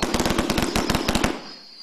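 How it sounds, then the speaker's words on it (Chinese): Firecrackers set off to celebrate a fresh batch of liquor at a rural distillery, a loud rapid string of sharp cracking bangs that stops abruptly and leaves a fading ringing tail. "按照当地习俗，每次酿出酒的那一刻总要放炮庆祝"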